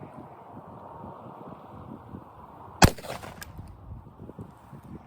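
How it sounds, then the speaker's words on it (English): A rifle fires one sharp, loud shot of PMC Bronze .223 ammunition through a 16-inch barrel outdoors, with a brief ringing decay over steady wind rumble on the microphone. "First, we're going to shoot the PMC bronze through a 16-inch barrel."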